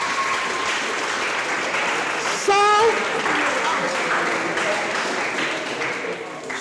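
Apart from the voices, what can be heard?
audience applause for speaker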